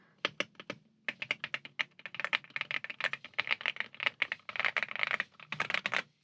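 Fingers type on an Aula F75 Max mechanical keyboard, producing close, crisp clacks that come in short bursts and then in a dense continuous flurry of keystrokes, with no voices.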